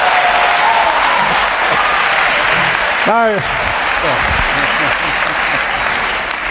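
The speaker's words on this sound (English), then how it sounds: "it's very kind of you to clap" Audience at a talk on science and God applauds a quip, dense sustained clapping with a voice cutting in briefly midway.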